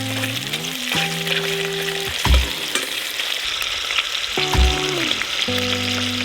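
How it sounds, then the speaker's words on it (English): Sausage sautéing in an Instant Pot on saute mode, powered off-grid by an Anker SOLIX C1000 portable power station, giving a steady close sizzle with a couple of scraping stirs. Tonal hums rise and fall alongside it, and nobody talks. "I'm gonna saute up the sausage"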